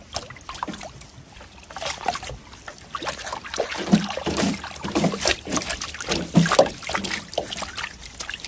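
Soil-caked lilac tree roots are swished around in a garden water butt, making close, continuous sloshing and splashing that builds in waves and grows louder toward the end.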